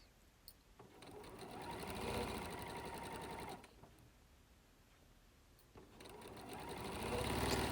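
A sewing machine stitches a straight seam down the edge of a pinned fabric Christmas napkin, running in two steady bursts with a brief pause between them, close and fairly loud.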